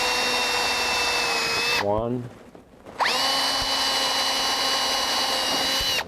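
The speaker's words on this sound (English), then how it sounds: "Usually you can drill about an 1/8-inch pilot hole." A power drill drives screws into the bolt of a door lock set into a door edge, with two close, steady whining bursts separated by a short pause in which a voice briefly speaks.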